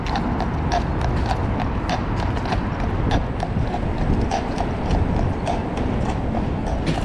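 Horse hooves clip-clop on a New York City street at night, a steady, rhythmic run of sharp hoof strikes over a constant rumbling street background.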